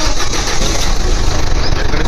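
A 2011 Ford Figo Titanium car engine runs at a steady idle, close and loud, with a constant rumbling drone and no pauses.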